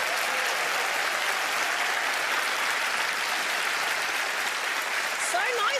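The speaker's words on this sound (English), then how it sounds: "Please give them a round of applause." A television studio audience at a magic show applauds in a steady, dense wash of clapping, with a voice briefly emerging near the very end.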